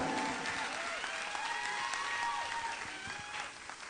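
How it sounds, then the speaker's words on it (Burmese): Spectators at a Miss Universe Yangon pageant applaud the contestants with a steady, moderately distant wash of clapping that fades slightly toward the end, and faint cheers and voices are mixed in. "လက်ခုပ်သံများနဲ့အားပေးကြပါအောင်ခင်ဗျာ"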